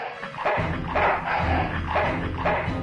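A dog in the video game Full Throttle Remastered barks in a series of loud, close, repeated barks with whimpery yips, over a low game background.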